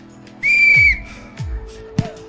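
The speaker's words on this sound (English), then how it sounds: "On my whistle, Tom and Fred." A referee-style whistle blows one sharp, loud blast at the start of a football crossbar challenge, followed by faint thuds in the background.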